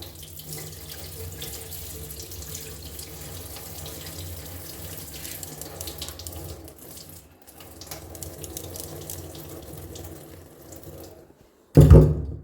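Tap water runs steadily and close by into a sink while black rice is rinsed for kanji, a continuous splashing flow that briefly dips and then ends with a sudden loud clatter.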